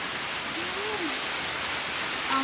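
Heavy rain pours steadily as it floods into a house, a dense hiss of water at a constant level with a faint tonal sweep partway through. No one speaks.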